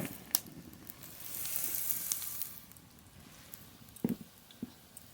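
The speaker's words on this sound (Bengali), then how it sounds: "অল্প অল্প তেল দিয়ে ভাজবো" Sizzling of food frying in a little oil in a pan while making egg curry and taro fritters, a soft steady crackle that swells in the middle, with a few sharp clicks of utensils against the pan.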